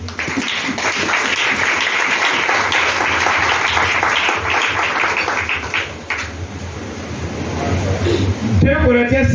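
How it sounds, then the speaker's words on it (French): A church congregation applauding and cheering, dense clapping mixed with many voices calling out, loud and sustained, fading slightly before a voice rises at the end. "Et acclame Jésus"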